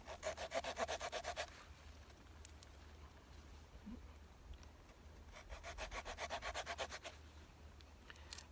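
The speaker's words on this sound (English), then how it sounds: "Let me saw some more wood up for that thing while we're sitting here." A Victorinox Huntsman pocket knife saw cuts through wood in two quiet bursts of quick, rhythmic back-and-forth rasping strokes, separated by a pause.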